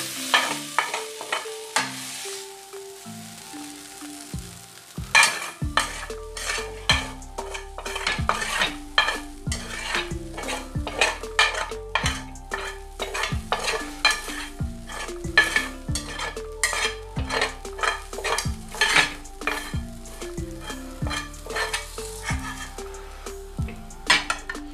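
Egg fries in a pan while a utensil stirs and scrapes in quick, irregular clinks and taps over a constant sizzle, close and fairly loud.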